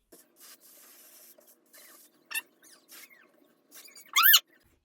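Short spritzes from a can of Ebon lace adhesive spray applied before a lace front wig install, a few brief hissing bursts close by, the last one loudest, with faint rustling between them.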